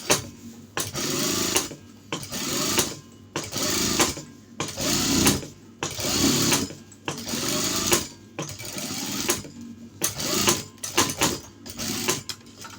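A sewing machine stitches the foot seam of a shirt collar in repeated short bursts of rapid needle chatter. Brief pauses separate the bursts, and the sound is close and fairly loud.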